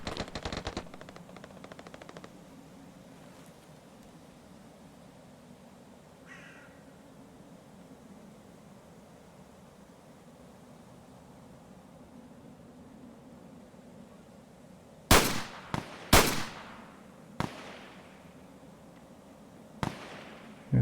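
Several loud, sharp gunshots crack in Escape from Tarkov, a close pair followed by scattered single shots after a long quiet stretch of low ambient hum.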